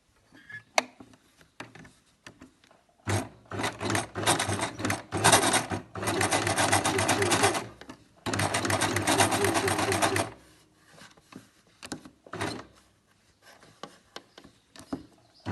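Sewing machine stitching blouse fabric in several close bursts of rapid needle chatter separated by pauses and handling noises while the fabric is realigned, with brief quiet speech in between.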